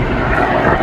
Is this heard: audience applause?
no